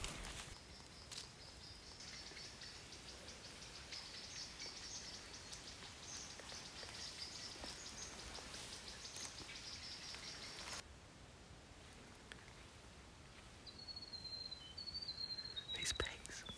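Faint, steady rain hisses through bush foliage during a public-land bow hunt, with a soft broadband wash, occasional light drips and a faint insect or bird chirp late on.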